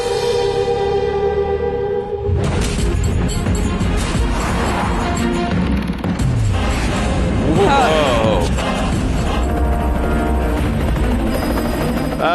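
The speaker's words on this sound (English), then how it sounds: "he's gonna chase down the helicopter?" A helicopter in an action chase from the film Krrish, a loud sustained rotor roar under a dense movie soundtrack with crashes and music, starting about two seconds in and running to the end, while people react and talk over it.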